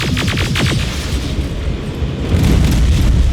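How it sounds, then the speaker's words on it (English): Rockets explode in Terminator Resistance with loud, close, rumbling booms, a cluster of bursts at first fading into a low roar, then another heavy blast swelling at the end. "Rockets! They're heading this way!"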